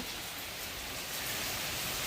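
Heavy rain pouring steadily at night during a thunderstorm, a dense continuous hiss that swells slightly louder toward the end, with no thunder or voices standing out.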